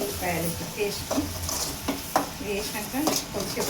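Fresh ginger and garlic fry in a pan for paneer curry, a lively sizzle broken by scraping stirs and light clinks of a utensil against the pan, with faint voice-like sounds in the background.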